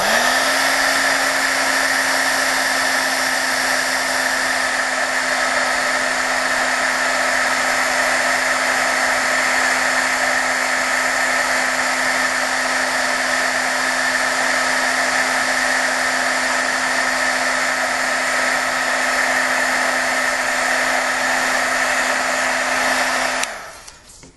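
A heat tool blows continuously over watercolor masking on paper, producing a loud, steady whirring roar that runs unbroken for about twenty-four seconds before cutting off abruptly.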